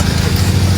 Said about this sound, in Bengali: সবসময় বাইক যাওয়া আসা করছে